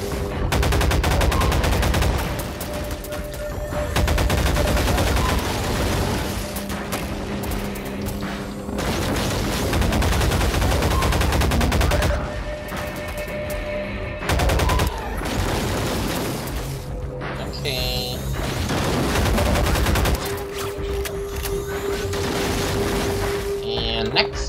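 Loud gunfire fills the Half-Life 2: Episode Two VerticalVille2 mod, with bursts of shots and heavy booms over a droning game backdrop and some speech.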